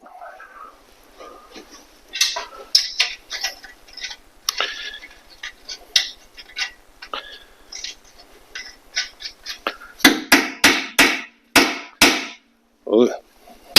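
Sledgehammer blows on a rusty Ford Bronco body bushing during frame repair, a run of loud, sharp metallic strikes in quick succession after lighter knocking and scraping, close by.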